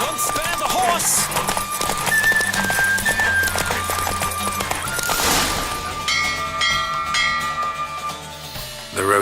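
Galloping hooves during a horse race in The Witcher 3 patter softly beneath swelling game music and effects, with a brief whinny-like sound and chiming clinks along the way.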